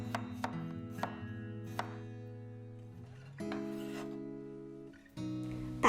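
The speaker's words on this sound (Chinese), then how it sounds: "再切一点蒜片备用" A kitchen knife slices garlic cloves on a board, each cut a short crisp tap spaced irregularly under sustained background music.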